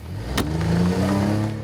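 A car starts off close by, its mid-pitched engine rising and holding steady with a brief sharp knock near the start, and no voices.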